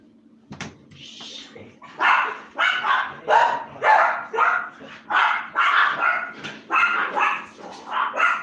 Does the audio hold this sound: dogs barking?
yes